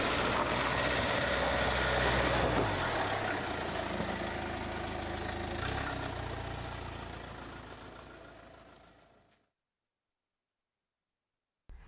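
A Land Rover engine pulls in first gear up a snowy incline under strong, steady throttle, a loud, dense rumble that holds then gradually fades away before cutting to silence near the end.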